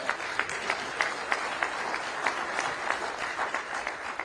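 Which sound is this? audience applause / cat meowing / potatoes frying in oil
audience applause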